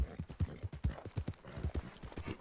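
A horse gallops in Red Dead Redemption 2, rapid rhythmic hoofbeats thudding in a steady fast cadence, fairly quiet in the mix.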